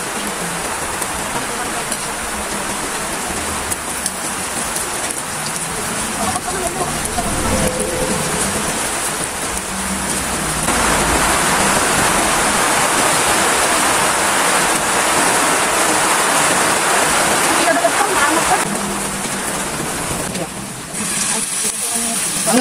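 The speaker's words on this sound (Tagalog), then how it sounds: "magprito" Bamboo shoot batter sizzles steadily in hot oil, a dense crackling hiss that grows louder and fuller partway through and stays close and continuous, with a voice talking faintly over it.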